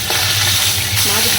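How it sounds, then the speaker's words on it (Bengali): Fish fries in a pan with a close, steady sizzle and crackle of hot oil that lasts the whole brief moment. "মাছ ভাজা হচ্ছে,"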